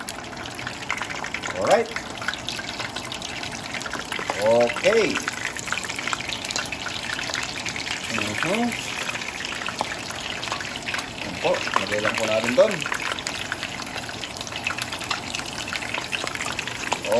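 Pork belly goes into hot oil left over from frying tofu, giving a steady hiss and sizzle that swells and settles across the clip while a person talks over it.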